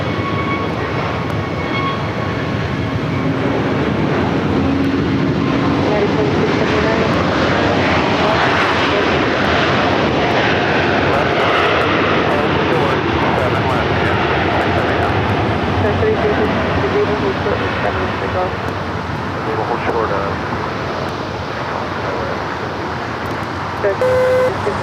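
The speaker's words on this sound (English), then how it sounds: "The flight taken off was American Airlines Flight 3186" American Airlines jet taking off at LAX in challenging weather, a continuous loud engine roar that stays strong throughout, with voices talking over it.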